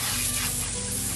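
A garden hose sprays water across house siding to rinse it, a steady, loud, unbroken hiss with no voices.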